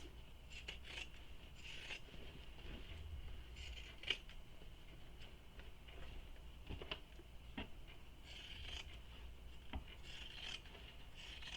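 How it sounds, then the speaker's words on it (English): Pinking shears make soft, repeated raspy snips as they trim the fabric seam allowances of a shoulder bag, close and quiet with no talk. "And I'm using pinking shears."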